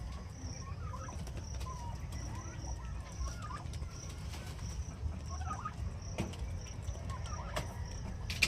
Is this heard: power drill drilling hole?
no